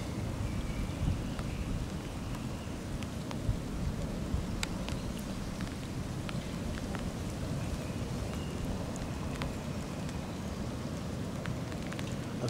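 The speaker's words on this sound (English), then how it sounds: "Oh, started raining again." Steady rain falls in Amsterdam Bos forest, a continuous dense patter close by with a few sharper drop hits, heard alone without any voices.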